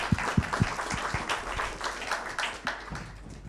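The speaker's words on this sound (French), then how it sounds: "Merci beaucoup Corinne, on t'applaudit de nouveau." Audience applause at a conference, a room of people clapping steadily with a few distinct nearby claps standing out over the dense patter, continuing at even strength.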